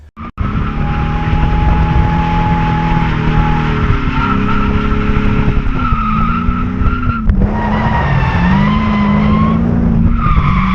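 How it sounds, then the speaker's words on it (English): A car with an exhaust leak drones loudly and continuously with a raspy, rumbling exhaust note, its pitch rising and falling as it drives. "if you've ever been driving around like this, then you know how exhausting it can be to chase down exhaust leaks"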